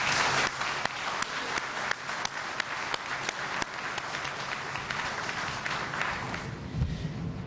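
Audience applause fills a hall during a presidential anti-corruption speech before assembled heads of state, a dense, steady wash of many hands clapping throughout with sharper individual claps standing out, tapering slightly near the end.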